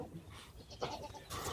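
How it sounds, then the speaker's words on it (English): Goat bleating in a video game, a couple of short, nasal bleats at moderate distance over faint background game noise. "Time to teach this goat who's the boss."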